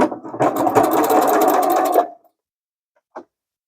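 A sewing machine stitches a seam on a fabric zipper pouch in a steady, fast run of about two seconds, stops, and a single short click follows after a pause.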